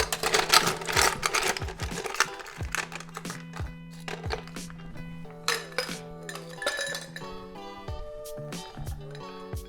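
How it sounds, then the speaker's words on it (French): Ice cubes clinking and tumbling into a cocktail glass for a vodka drink, a busy rattle at first that thins into scattered bright clinks and taps, close and clear with no talking. "On remplit notre verre de glace."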